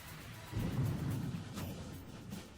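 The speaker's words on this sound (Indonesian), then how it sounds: "Sepertinya tersambar petir." Thunder from a lightning strike on an airliner in flight, a low rumbling roar that swells suddenly after a quiet start and then rolls on steadily, fairly faint and muffled.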